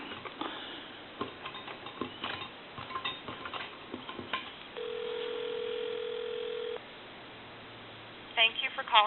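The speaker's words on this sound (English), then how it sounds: "I'll dial Walmart." Touch-tone telephone dialing to a Walmart store on a Sitel phone: a run of short ticks and clicks, then a steady tone for about two seconds and a quick burst of beeps at the end, faint, with low background murmur.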